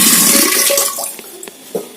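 Water is poured from a small chembu pot into a large vessel: a loud gushing splash that fades into a few scattered drips.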